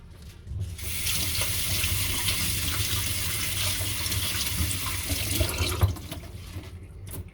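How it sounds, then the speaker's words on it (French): Cabbage washed in a kitchen sink under a running tap, a steady close rush of water that starts abruptly, splashes over the leaves and stops near the end. "le chou, on le lave"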